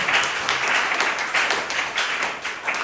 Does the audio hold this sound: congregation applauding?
yes